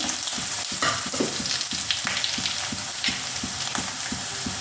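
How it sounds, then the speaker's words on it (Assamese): Dried red chillies frying in hot oil for tengamora seed pickle, a loud, steady sizzle with scattered crackles and faint stirring scrapes throughout, no voices. "এয়া শুকান জলকীয়া মই তেলত দি দিম"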